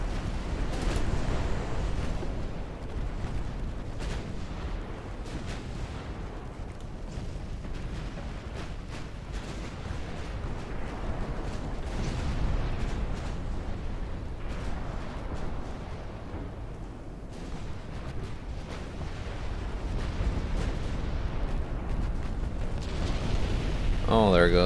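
A battleship, a pre-dreadnought, blowing up in a naval battle video game: a long, rumbling wash of explosions and heavy booms rolls on steadily, loud and dense throughout.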